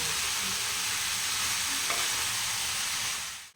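Masala for lau chingri is stirred in a hot frying pan, giving a continuous dense sizzle at close range that cuts off abruptly at the end.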